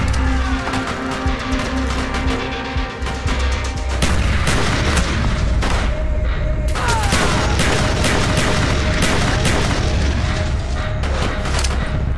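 In the Call of Duty: Black Ops mission The Defector, a frag grenade explodes amid dense, loud gunfire, with booming blasts and rapid bursts of shots over several seconds.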